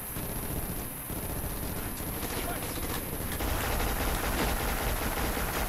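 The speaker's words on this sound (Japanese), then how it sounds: "マシンガンがいい銃声してるな" Dense, continuous machine gun fire in the FPS video game Black crackles under a heavy wash of noise, a busy chaotic barrage with faint voices mixed in.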